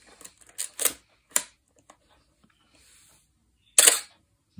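Several shutter releases of a Canon A-1 film SLR with a squeaking mirror: sharp mechanical clacks in an irregular series, close and loud, with a final louder actuation near the end and quiet handling noise between.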